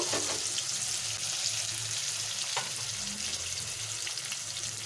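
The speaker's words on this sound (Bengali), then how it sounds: "এবারে আমি এর সঙ্গে ভালো করে ভেজে নেব" Mango pieces fry with katla fish in a pan, making a continuous bubbling sizzle with a few soft stirring scrapes, close and fairly loud.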